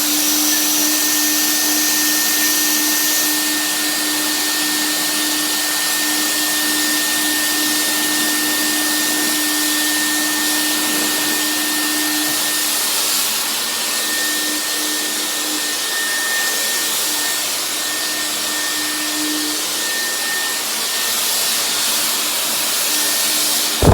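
A probiotic room diffuser machine runs with a steady, loud hiss and a constant electric hum, droning evenly without a break.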